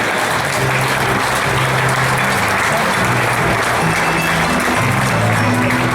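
A crowd at a tournament prize ceremony claps loudly and continuously, a dense, sustained applause with some voices mixed underneath.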